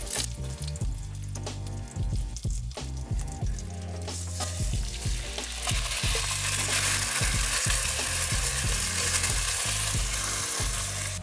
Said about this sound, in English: Make sure to stir that rice so it coats all of that fat, coats every grain of the rice.